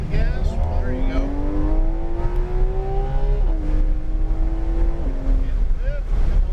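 A GT3 race car's engine pulls hard on a track, its loud, close drone climbing steadily in pitch, dipping briefly at a shift, then rising again over a constant rumble.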